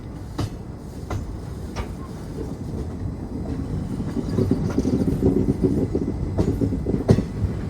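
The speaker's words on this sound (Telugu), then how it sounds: "వ్యాప్ 4 లోకోమోటివ్ అయితే పుల్ చేస్తుంది మన ట్రైన్ని." An express train hauled by a WAP-4 electric locomotive rolls along the Renigunta–Gudur line, a steady rumbling ride with periodic sharp wheel clacks over rail joints, the noise growing fuller and louder midway.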